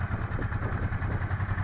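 A 1996 Honda NTV 650 motorcycle engine idles close by, a steady low rhythmic throb that stays even and unbroken for a brief moment.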